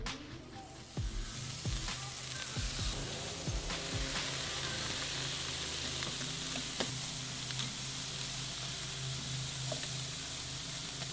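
Salmon wings sizzle skin side down on a hot Kamado Joe charcoal grill grate at about 400 degrees, a steady close crackling hiss that runs the whole time with a few sharper pops near the start.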